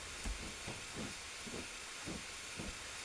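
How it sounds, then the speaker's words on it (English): A BR Class 9F steam locomotive in Train Simulator 2016 chuffs along gently, soft rhythmic exhaust beats about twice a second over a steady faint hiss. "we have the 9F, which is a splendid locomotive nonetheless"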